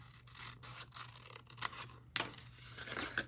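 Scissors cut patterned paper down to score marks for a mini Easter basket, several close crisp snips and rustling paper strokes, one sharp louder cut partway through.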